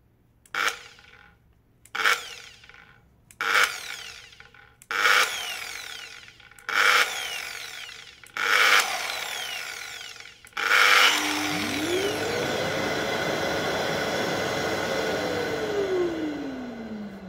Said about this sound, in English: Let's test the auto start function of the two machines, starting with Festool. The grinder is set on speed level 1.